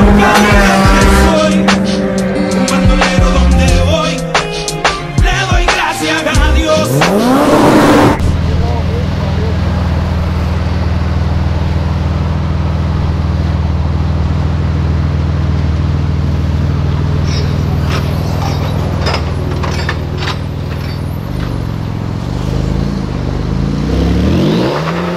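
Honda Civic Type R driving on a Brazilian street, engine revving loudly up close with sharp transient bursts early on, then settling into a steady low drone as the car cruises past.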